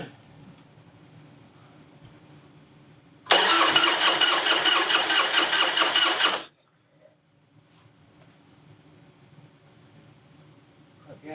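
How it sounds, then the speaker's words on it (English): Harley-Davidson motorcycle that has sat unused for years cranking with the starter for about three seconds, a loud rhythmic churning that stops without the engine catching, set against quiet surroundings. "we'll try to start it first and see if it does anything"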